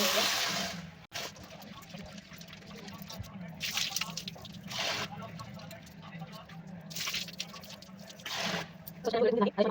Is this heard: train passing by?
no